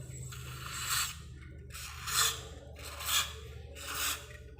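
A cloth rubs and wipes oil off a Ninja RR motorcycle part in four or five distinct scrubbing strokes, close and moderately quiet, with a faint low hum underneath.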